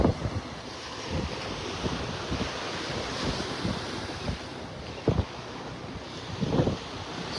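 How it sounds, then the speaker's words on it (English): Wind gusts and waves wash at a beach pass in North Naples, Florida, on a cloudy morning as the tide goes out, a steady broad rush with occasional louder wind bumps against the microphone. "Windy out here."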